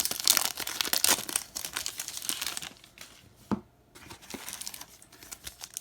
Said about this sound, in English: open some more packs here